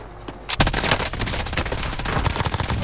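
Gunfire in Call of Duty: Modern Warfare bursts in rapid automatic fire after a brief quieter moment, dense and loud, repeated cracks packed tightly together without speech.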